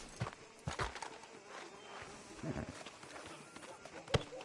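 Horse hooves clopping in the video game Red Dead Redemption II, a rider arriving outside a sheriff's office. The hoofbeats are irregular and moderately close, mixed with game ambience, and a few louder thuds stand out.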